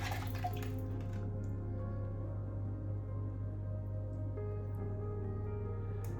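Milk and cream poured over buttered bread and fruit in a dish for bread and butter pudding, a steady soft liquid trickle and drip at close range, alone and fairly quiet.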